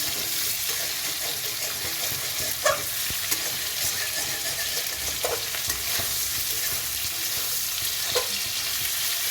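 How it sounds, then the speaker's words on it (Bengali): Potatoes fry with black cumin in a pan, a loud, close, continuous sizzle with occasional stirring scrapes and clinks, and no talking. "দেখুন আলুটা একটু হয়ে গেছে ভাজা"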